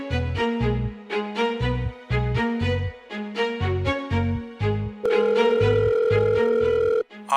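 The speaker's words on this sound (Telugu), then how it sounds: "ఫోన్ పెట్టే యాదవా." A telephone call tone plays as a repeating pattern of short electronic ring bursts, then shifts to a steady held tone before cutting off, with no talk over it.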